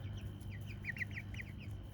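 Chickens in a coop make soft, quick clucking chirps in a short run, faint over a low background hum.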